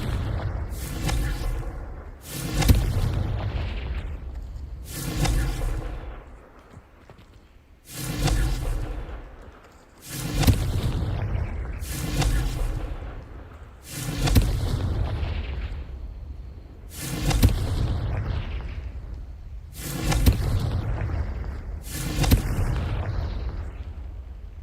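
Repeated booming explosions from fire spells cast in the Hogwarts Legacy video game, about eight loud bursts at a steady rhythm of roughly one every three seconds, each ending in a rumbling tail.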